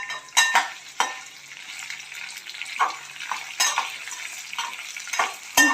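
Dry red chillies roast in a pan with a pinch of asafoetida, a quiet crackle under repeated sharp scrapes and taps of a spoon against the metal, close and without speech.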